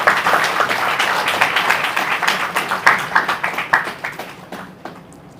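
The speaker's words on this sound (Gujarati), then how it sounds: "બાકીના મિત્રો તાળીઓ પાડજો." An audience at a journalism school event claps together, a dense burst of applause that thins into scattered individual claps and fades out over several seconds.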